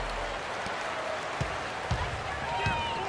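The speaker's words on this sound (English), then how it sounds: "This hometown crowd ready to go" A home crowd fills a Miami Heat basketball arena before tip-off against the Rockets, a steady broad roar with a few dull thuds rising through it.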